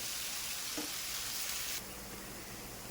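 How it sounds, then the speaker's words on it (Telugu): Gongura leaves frying in a pan for gongura biryani, giving a steady, fairly quiet sizzling hiss that drops slightly in level partway through. "గోంగూర అంతటిని కలుపుకొని పచ్చివాసన పోయేదాకా మనం వేయించుకోవాలి"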